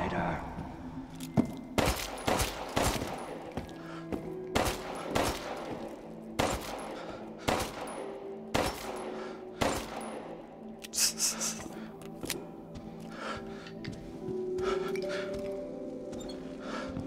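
Gunfire in Resident Evil Village, a long run of sharp, loud shots fired in uneven bursts and single cracks across the whole stretch, with game sounds between them and a voice now and then.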